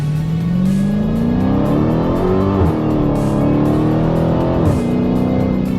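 Dodge Hellcat with an 8-speed automatic, loud and close as the engine revs up hard, with rising engine tones broken by two quick paddle upshifts, each followed by another climb.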